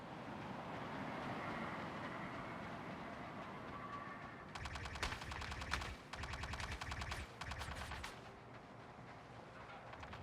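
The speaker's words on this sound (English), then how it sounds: "somebody was shooting at me" Gunfire in the space game Star Citizen: after a few seconds of rumbling background, sustained rapid automatic fire breaks in with a brief pause and then another long burst, fairly quiet overall and with no speech.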